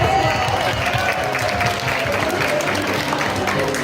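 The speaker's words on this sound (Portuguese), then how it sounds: "palmas pra eles!" Applause from a live audience for a pair of magicians, loud and dense continuous clapping from a crowd that fills the whole stretch without pause.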